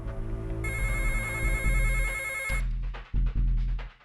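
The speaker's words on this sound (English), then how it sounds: "the standard phone went, not our normal hotline for emergency calls" A standard landline telephone at a lifeboat station crew room rings loudly and close, a sustained electronic ring that cuts off abruptly, followed by a few short clunks and knocks.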